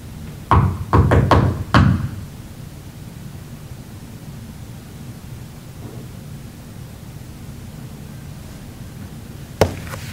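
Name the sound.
knock in a courtroom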